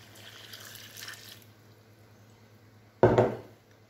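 While making Sicilian lemon granita, water is poured over sugar in a kitchen. A soft early trickle is followed by a brief, louder splash near the end, close and with no talking.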